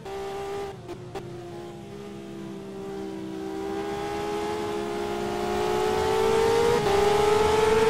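Formula Renault race cars in the Simraceway racing game roar as engines climb in pitch, a sustained whine rising steadily louder toward the end.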